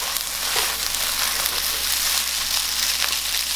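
Glass noodles with soy sauce being stir-fried and tossed in a hot pan, a continuous close sizzle and hiss with faint scraping and crackle, no talking.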